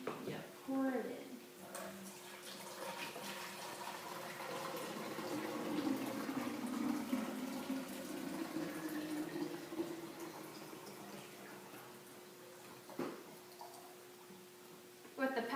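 Water poured over a sink to fill a calf's milk-replacer bottle, a soft continuous splashing stream that swells and steadies across the span before a brief clatter near the end; quiet and close.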